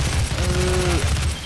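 Gunfire in the demon-slaying shooter DOOM, a dense continuous burst of shots under a steady rumble, with a brief tonal whine across the middle of the burst.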